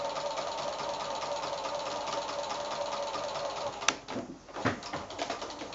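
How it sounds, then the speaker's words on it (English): A sewing machine runs steadily in a straight stitch along a drawn line to attach an applique shape for quilting, a continuous close mechanical whir that stops near the end, followed by a brief click and a couple of soft handling knocks. "just stitch on that line just with a regular sewing stitch but following your drawn line"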